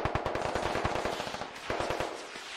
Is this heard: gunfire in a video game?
yes